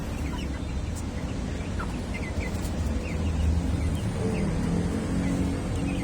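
Chickens cluck in scattered short bursts over a steady low background rumble, moderately loud and continuous.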